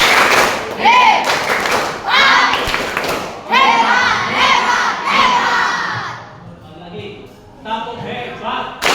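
Children at an Indonesian school shout a rhythmic clapping chant in bursts, loud crowd voices with claps and thumps rising and falling, then a short pause and another burst.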